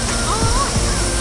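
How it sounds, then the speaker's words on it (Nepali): Stream water coming down from higher ground near Jhankri Falls, rushing steadily and loudly at close range, with no break for the whole moment. "यो खोला चाहिँ माथि बाघथाङको पानी हो"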